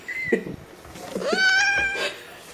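A pet cat meows indoors, a rising, drawn-out call up close after a short earlier mew, with faint human voices around it.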